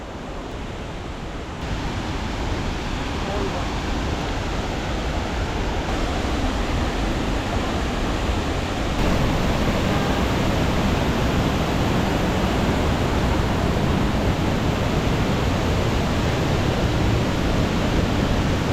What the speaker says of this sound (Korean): 이단 폭포 가는 길